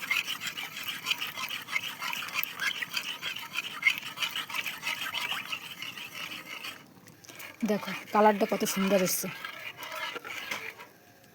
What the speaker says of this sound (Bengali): এবার দুধটা দিয়ে দেবো, এর মধ্যে দুধটা দেবো আর নাড়িয়ে নেব